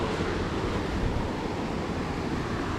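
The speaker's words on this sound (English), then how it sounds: "we found the river, which is a good start" A river in the wilderness near Jardín, Colombia rushes steadily in a broad, continuous wash of water noise, moderately loud, with some wind buffeting the microphone and no voices.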